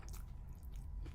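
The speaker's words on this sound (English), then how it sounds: "I pray to God y'all heard that crunch." A crunchy bite of food during a mukbang eating session, close and quiet, with a few crisp crunching and chewing sounds spread over about a second and no talking.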